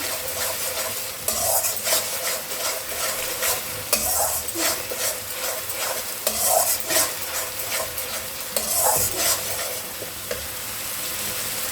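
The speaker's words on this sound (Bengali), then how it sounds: "রসুনটাকে একটু ভালো করে নাড়ছি" Garlic sizzles in a pan while a utensil scrapes and stirs it in repeated bursts, a loud close hiss rising with each stroke and no talking.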